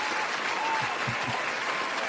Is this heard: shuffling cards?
no